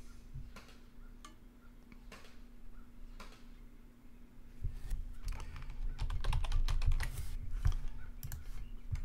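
Typing on a computer keyboard, sparse soft key clicks at first that grow into quicker, louder runs of keystrokes toward the end, alone with a faint steady hum.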